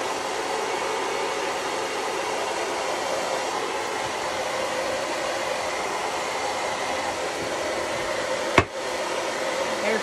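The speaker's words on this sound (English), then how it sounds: "Hair dryer is trying to get my hair again." Hair dryer blowing over a freshly painted white candlestick stand, a steady close whooshing hiss held throughout with one brief bump near the end.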